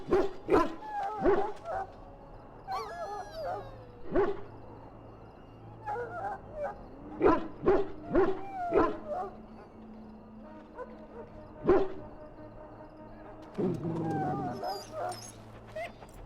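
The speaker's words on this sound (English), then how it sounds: "Now I can treat the dog properly, poor fella." A dog in Dragon Age Origins gives scattered sharp barks and yips with a few whimpers, spread across the scene, while people talk in between.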